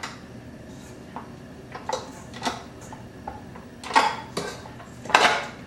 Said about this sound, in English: So now I'll take the dough hook off my mixer.